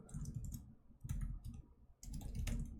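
Typing on a computer keyboard comes in three short bursts of quick, close, crisp key clicks separated by brief pauses.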